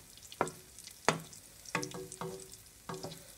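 Guyanese float bakes frying in oil over low heat, a soft background sizzle broken by faint spoon scrapes and taps as oil is spooned over the dough, with no voices.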